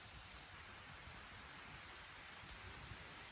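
Steady rain falling during a mid-September evening shower, a dense even hiss that stays faint and continuous throughout with no voices.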